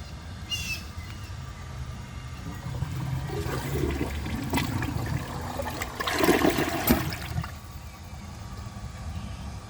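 A Glacier Bay high-efficiency toilet flushing a dish towel. A steady rush of water runs throughout, with brief louder gurgling surges in the middle, heard close and alone.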